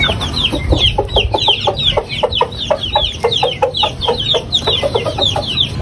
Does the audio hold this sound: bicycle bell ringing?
no